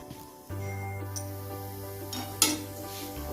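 Ragi millet flour roasts in ghee in a pan over a low gas flame, with soft scraping and occasional clinks of the spoon stirring it, faint and close over a steady low hum.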